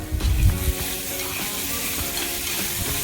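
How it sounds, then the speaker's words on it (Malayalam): Chopped tomatoes and curry leaves hit a hot pan and sizzle, a loud burst of crackling and spattering at first that settles into a steady frying hiss. "രണ്ട് തക്കാളി അരിഞ്ഞു വെച്ചിട്ടുണ്ട് അതുകൂടി ഇട്ട് കൊടുക്കാം"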